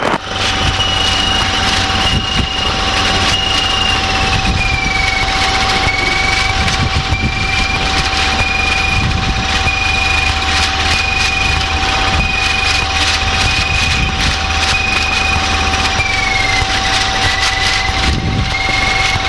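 A light aircraft engine idles steadily after landing at Barton, a loud continuous drone with a sustained whine that shifts pitch slightly, heard from inside the cockpit without talk.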